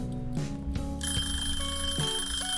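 A kitchen timer goes off with repeated bright electronic ringing tones, loud and close, sounding continuously for a couple of seconds in a home kitchen.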